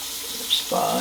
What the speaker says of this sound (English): I don't know if you can hear the chunks of the actual coconut falling